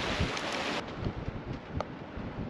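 Strong squall wind buffets a microphone aboard a Leopard 45 sailing catamaran, a steady loud roaring rush with gusty thumps and water noise underneath, no voices.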